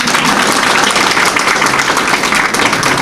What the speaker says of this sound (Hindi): ताली बजाओ उसके नाम की